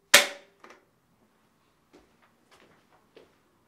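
A film clapperboard slate snaps shut once with a sharp, close crack at the start of a take, followed by faint small knocks and handling noises.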